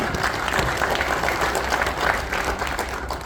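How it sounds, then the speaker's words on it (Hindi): A studio audience at a farmers' special session gives dense, energetic applause to welcome an agriculture minister, continuous clapping filling the whole short stretch. "जोरदार तालियों के साथ दोस्तों"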